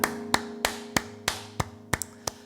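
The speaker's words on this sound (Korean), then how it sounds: "우리 하나님께 영광의 박수 올려드리겠습니다." A few people in a Korean Sunday church service clap slowly and sparsely, about eight sharp separate claps spaced evenly, distinct against a quiet background with a faint steady hum.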